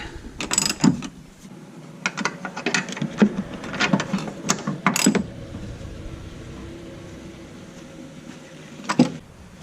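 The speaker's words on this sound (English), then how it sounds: "My torque wrench can't get in here in this closed space, so I just tighten it, get it snug." A rear shock bolt is snugged down by hand on a 2010 Mazda 3. A close, rapid run of ratchet clicks comes in bursts, then goes quiet, and one last click sounds near the end.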